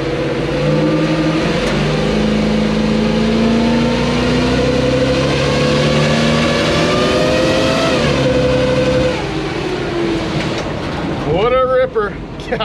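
A square body Chevy truck with a swapped torque converter accelerates hard through first and into second gear, its engine revving up loud and close, dropping at the shift and climbing again.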